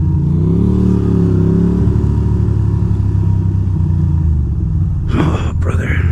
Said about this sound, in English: big truck coming at speed